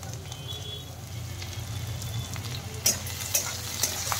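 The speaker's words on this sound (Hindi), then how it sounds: "कांदा लहसुन और जो फोड़न के लिए डाला था वो सब अच्छे से फ्राई हो गया" Chopped onion and garlic tempering frying in a pan for a capsicum curry, giving a steady, low sizzle with a few faint stirring clicks near the end.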